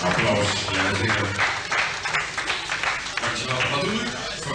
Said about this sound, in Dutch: Ja, makkelijke applaus.